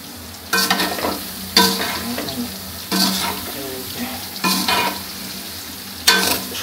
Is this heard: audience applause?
no